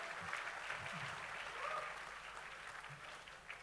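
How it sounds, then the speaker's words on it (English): Realtors at a national convention applaud together in a steady, fairly faint clapping crowd that holds for a few seconds, with a voice briefly audible in the room. "Yeah, round of applause, please."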